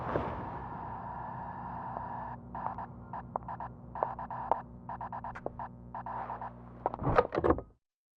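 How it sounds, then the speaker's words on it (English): Beeping Morse code tones from a Kirby game track sound as short, evenly pitched pulses in clustered groups over a low sustained musical drone, before a brief louder flourish and a sudden cutoff. "you can hear some beeping that spells out Neichel in Morse code"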